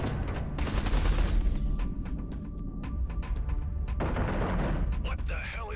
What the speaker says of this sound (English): Eduardo, concentrate artillery fire on Blakemoore's carrier.